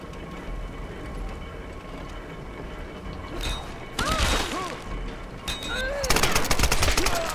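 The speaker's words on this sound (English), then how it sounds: "Ow, where am I getting shot from?" Video game gunfire in Tomb Raider (2013) on PC, loud rapid bursts and shots arriving in clusters over a rumbling game background, with some whooshing sweeps between volleys.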